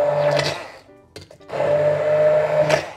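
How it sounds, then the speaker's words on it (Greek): A hand blender purees sauce for chicken in white sauce with capers, whirring loudly and steadily in two bursts with a brief pause between them, and no voices. "θα το πολτοποιήσουμε με μπλέντερ χειρός."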